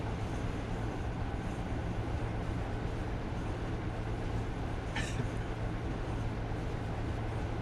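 A train rolling along the Night Riviera Sleeper route in a railway simulator game, heard as a constant low rumble and hum, steady and even throughout, with one brief higher burst partway through and no talking.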